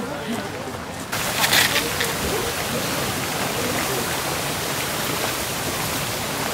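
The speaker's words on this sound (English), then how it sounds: "Down there is the actual secret waterfall." A waterfall in Iceland roars as a steady, broad rushing wash of falling water, loud and continuous, with a brief louder burst near the start and faint voices underneath.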